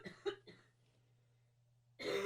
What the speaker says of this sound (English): I'm over here crying because I'm trying not to cough